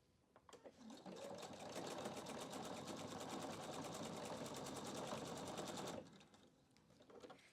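A PFAFF QE 720 sewing machine stitches decorative ribbon in a steady, rapid needle rhythm for about five seconds, loud and close, then stops. No voices are heard.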